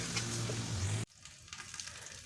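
Mutton fries in a pot, giving a loud, close, dense sizzle for about a second before it abruptly drops to a quieter crackle with light stirring.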